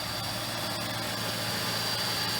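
A 1999 Lincoln Town Car engine idles smoothly and evenly up close after an ignition coil replacement, a constant low hum with a thin whine above it and no stumble.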